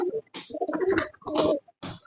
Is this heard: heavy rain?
no